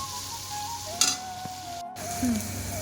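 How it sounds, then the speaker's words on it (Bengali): Chopped onion and green chilli sizzling in a pan, with a steady frying hiss, a sharp clink of a utensil, a brief gap, and a low tonal hum under the cooking. "পেঁয়াজটাকে একটু ভালো করে ভেজে নিব"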